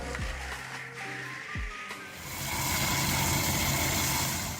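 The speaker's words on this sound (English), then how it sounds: "Here's a mulcher that turns excavators into universal clearing machines." A Dina-Cymaf mulcher attachment on an excavator shredding dense vegetation, a loud rumbling machine drone that starts with a few descending whines and rises into a steady, harsh grinding roar.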